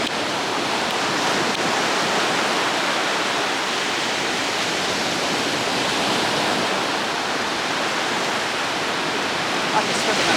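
Sea waves wash onto a beach in a steady, broad roar of surf, loud and continuous throughout with no distinct breaks between swells.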